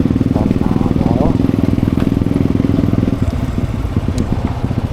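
A motorcycle engine drones steadily and close while riding on Samal Island, a loud continuous low rumble with faint clatter, as riders talk over it.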